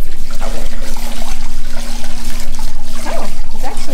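Water flows steadily from a small waterfall into a heated hotel-room pool in St. Lucia, a constant close wash with a steady hum beneath it and a few faint voice-like sounds.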